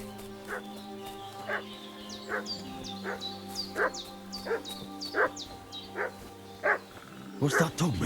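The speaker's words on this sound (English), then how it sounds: "What's that dog making such a fuss about?" A dog barks repeatedly in Kingdom Come: Deliverance II, about a dozen evenly spaced barks over a low steady ambience, ending in a quick flurry of sounds.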